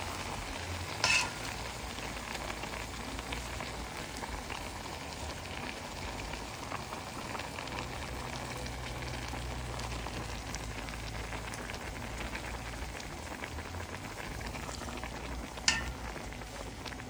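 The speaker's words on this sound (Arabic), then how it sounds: "انزل عليه بقى بالشوربه." Broth simmers and sizzles in a pan of pasta cooking with onion and garlic, a steady soft bubbling hiss throughout with two brief clinks, no voices.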